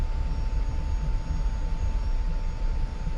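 An F-86F jet engine in the DCS flight game, a steady loud whine and roar holding evenly near a runway before takeoff, with no voices over it.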